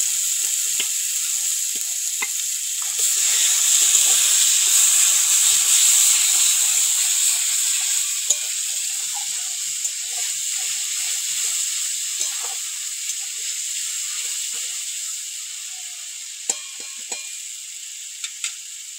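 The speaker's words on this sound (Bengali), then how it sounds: "এবার এই মশলাগুলোকে তেলের উপরে দিয়ে দেবো" Ground spice paste hits hot oil in a pan, a loud bright hiss that swells after a few seconds and then settles into a steady sizzle with small crackles and pops.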